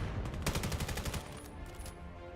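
Rapid bursts of automatic gunfire from the VR shooter game VAIL during a competitive match, a dense rattling volley that thins out toward the end, with no talk over it.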